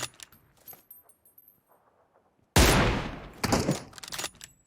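Gunfire in a shooter video game bursts in loudly partway through, a dense crackling volley followed by another short burst, after a quieter stretch of faint scattered game sounds.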